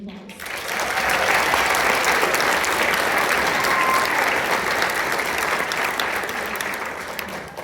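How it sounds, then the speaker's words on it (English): An audience in a school auditorium breaks into warm applause at a spring band concert, swelling quickly to a full, steady roar of clapping and then slowly easing off. "let's give her a round of applause"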